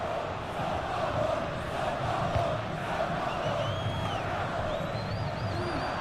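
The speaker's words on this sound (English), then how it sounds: "just listen to this crowd. They want a bit more." Stadium crowd in a football video game, an AFC Champions League or Copa Libertadores match, roaring steadily throughout with loud chanting and shouting at a late stage of the game.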